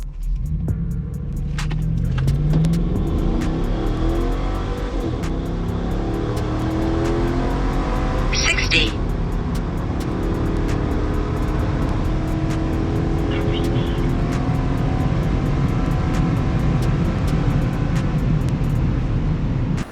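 A 5.0 pickup truck with bolt-ons and an E85 tune accelerates hard down a drag strip, its engine roaring and rising in pitch as it pulls away, with a brief higher whine midway.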